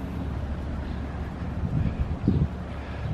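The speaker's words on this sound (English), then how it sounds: "It's a little windy here, so I hope the sound quality is not too bad." Wind blowing outdoors around a 1971 Ford Mustang convertible with a 351 Cleveland engine, a steady low rumbling buffet against the microphone that swells briefly near the end, with no talk.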